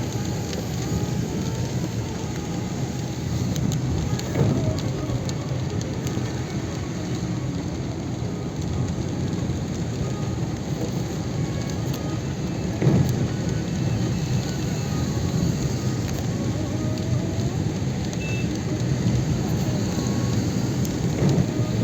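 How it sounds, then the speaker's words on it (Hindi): Heavy rain pours steadily in Delhi, a loud continuous wash with thunder rolling through at intervals, one louder rumble standing out near the middle. "बारिश वैसे ज़बरदस्त है"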